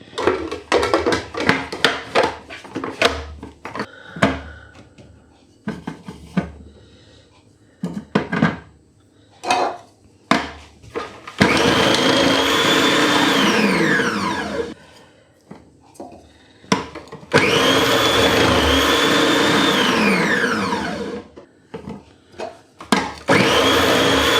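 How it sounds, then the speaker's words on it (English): Vegetables are fed through a food processor fitted with its slicing blade: first clattering knocks and thumps of loading, then two long loud bursts of whirring motor and rattling slices, separated by a short pause. "I'll put these through on the slicey blade first and then put them through again with the grater"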